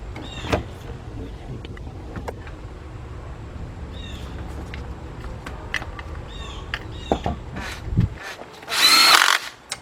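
A power tool with a 3/8-inch drive socket works on the oil pan bolts of a 2005 Cadillac CTS 3.6, with scattered tool clatter before a loud, brief whirring burst near the end.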